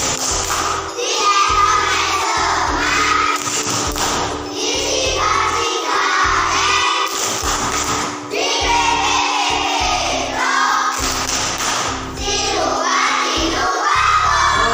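A classroom of children performs the rhythmic 'tepuk kuno kawan' clapping chant, chanting loudly together in bursts punctuated by sharp clap patterns, with the voices and claps filling the room close up.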